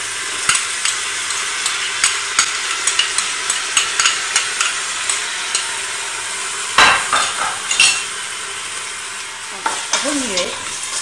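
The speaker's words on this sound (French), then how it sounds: "Ajoutez l'oignon et les morceaux de tomate." Onion and tomato pieces frying in a pan give a steady close sizzle, with scattered scrapes and taps of a utensil against the metal and a brief louder clatter near the end.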